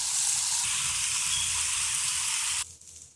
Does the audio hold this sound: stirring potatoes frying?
yes